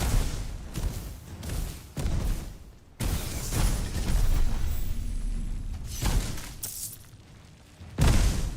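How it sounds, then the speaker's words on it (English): Booming explosions and bursting effects from the action role-playing game Titan Quest 2, several heavy blasts in quick succession with a sustained rumbling roar between them, loud and close. "That was a big explosion."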